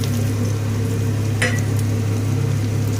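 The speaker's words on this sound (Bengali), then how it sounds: "এবার এতে দিয়ে দেব আলু" Potatoes dropped into hot oil already tempered with dried red chillies, bay leaves and cumin seeds give a steady, continuous sizzle and fry, close and fairly loud, with no voices over it.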